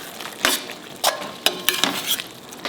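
A spoon stirring tomato chutney with jaggery and chopped coriander in a pan: quick scraping strokes and soft clinks against the metal over a low sizzle, close and fairly loud with no talk.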